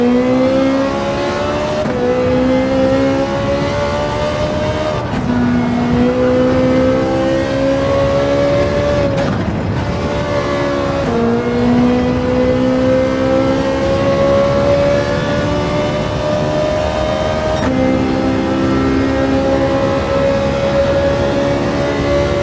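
A Lamborghini and other race cars in a VR racing game, with a loud, continuous engine whine that climbs steadily in pitch and drops sharply at each gear change, and no talking.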